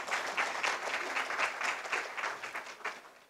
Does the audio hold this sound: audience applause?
yes